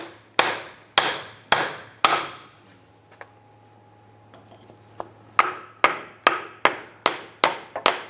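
A hammer strikes a block of wood set against the back of a CV axle on a 2002-2008 Dodge Ram 1500 front suspension, giving loud, close, evenly spaced bonks in two bursts separated by a quiet pause with faint clinks.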